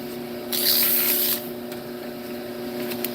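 Cheap sandpaper pressed against spinning wood on a lathe gives a loud, harsh hiss for about a second over a steady motor hum, then the hum carries on alone.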